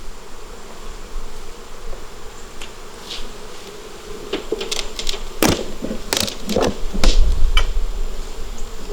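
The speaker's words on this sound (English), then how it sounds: "We have a lot of bees in here." Honeybees buzzing around an open hive during an October inspection, a dense steady drone close by, broken by scattered sharp clicks and knocks from handling the hive frames.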